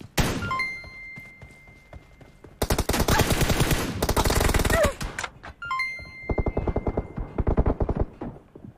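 Bursts of rapid automatic gunfire in a mobile team deathmatch shooter game, loud dense volleys broken by short pauses, with a few electronic game tones in between.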